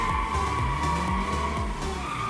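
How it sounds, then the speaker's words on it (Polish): A video game car drifts with a sustained tire skid and squeal over a droning engine, steady and continuous for a couple of seconds with no talk. "O, ładny drift."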